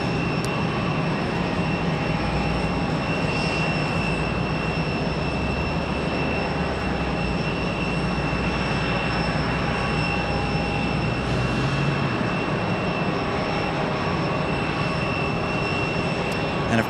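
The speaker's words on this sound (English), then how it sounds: "Again, American 2640 from DFW up next." An American Airlines jet at Raleigh Durham airport produces a steady, broad engine roar that stays loud and continuous throughout, with a low rumble underneath and no pauses.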